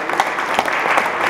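Brief burst of audience applause at a policy research symposium, a dense wash of many hands clapping at steady moderate loudness, with no talk over it.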